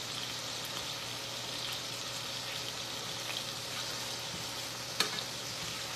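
Chicken fries in a pan with a steady, moderate sizzle and crackle, broken once by a short sharp clink.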